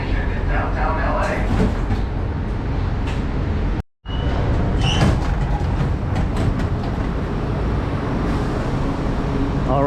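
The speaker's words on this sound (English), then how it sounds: "And I hear things starting right now on the train." A Metro B line subway train bound for downtown LA rumbles and rattles steadily up close, the noise cutting out sharply for a split second partway through before resuming at full strength.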